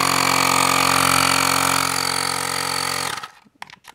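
A Xiaomi portable tire inflator runs with a loud, steady electric motor whine and buzz, then cuts off abruptly after about three seconds, leaving faint clicks.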